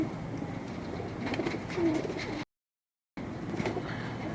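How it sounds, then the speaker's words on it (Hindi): Ferozpuri pigeons give soft, low cooing calls at close range, a murmuring run of coos broken by a brief total dropout before the calls resume. "फिरोजपुरी कबूतर है तमाम दोस्तों की स्क्रीन पर।"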